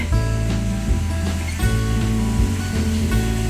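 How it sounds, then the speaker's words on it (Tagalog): Water rushes steadily in Hong Kong Park at night, a continuous broad splashing wash with a low background hum and no voices. "Kasi may naririnig akong ano. Tunog ng tubig."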